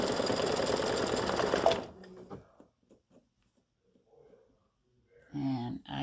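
A sewing machine runs a satin stitch in a fast, loud, steady whirring burst for nearly two seconds, then stops, leaving faint clicks and handling noises before a short second run near the end.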